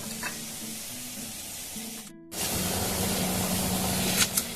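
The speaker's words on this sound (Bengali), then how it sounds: "এখানে আমি দিয়ে দেবো কতগুলো বড়িকে ভেজে নেব প্রথমে শুক্তো করার জন্য" Bori lentil dumplings frying in hot oil for a Bengali ridge gourd shukto, a steady dense sizzle that cuts out briefly midway, then returns just as strong and close.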